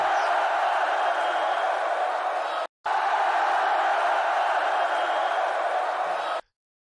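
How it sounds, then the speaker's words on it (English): A wrestling show crowd roars and cheers in a loud, steady wall of noise that cuts out for a split second midway, then swells again before stopping abruptly. "And the crowd goes wild."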